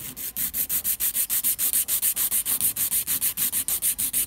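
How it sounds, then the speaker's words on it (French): Quick, steady rasping strokes of a file against an acrylic nail, filing the sides, about five per second, close and continuous with no voices. "toujours à la lime, je vais limer les côtés"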